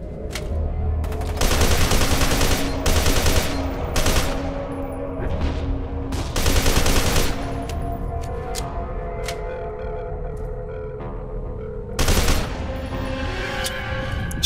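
Enemy gunfire in the first-person shooter FEAR 2, with repeated loud bursts of automatic fire in clusters, separated by short pauses filled with ringing echoes and ambient tones.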